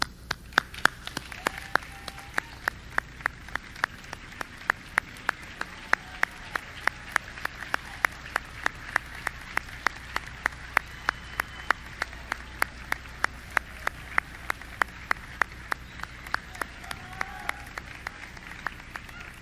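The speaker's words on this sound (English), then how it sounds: "stand up, turn around, and applaud your families and friends for their loving support." Graduates at a university business school commencement applaud their families and friends: sustained clapping from a large seated crowd, with sharp individual claps standing out in an even rhythm throughout.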